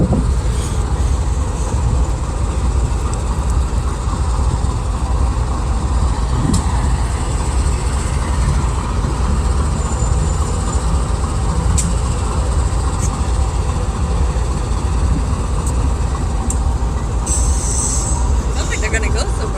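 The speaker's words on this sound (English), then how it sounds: "I can hear the engine starting up." A train engine starts up and runs in a steady, loud low rumble that continues throughout, with brief metallic squeaks and clanks near the end.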